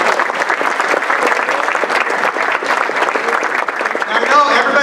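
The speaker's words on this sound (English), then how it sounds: "Give them a big round of applause." An audience claps loudly at a regional council regular meeting, the applause thanking the Western Riverside Council of Governments as event sponsor, with a voice talking over the sustained clapping throughout.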